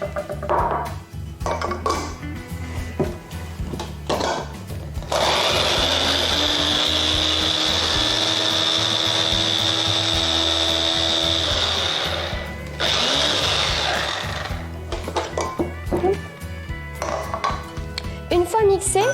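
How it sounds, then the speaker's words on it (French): A food processor whirs and grinds speculoos biscuits steadily for several seconds, loud and close, between stretches of talking. "on va commencer par mixer les 40 g de spéculoos."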